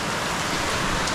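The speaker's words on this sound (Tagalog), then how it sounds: "napakalakas pa rin ang ulan" Heavy rain falling in the Philippines, a dense, loud, continuous hiss of downpour with no talk over it.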